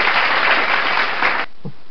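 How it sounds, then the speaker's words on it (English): A crowd cheers and applauds as a sound effect during a character tournament, a dense burst of clapping that cuts off sharply, followed by a brief soft sound. "And the crowd goes wild for that!"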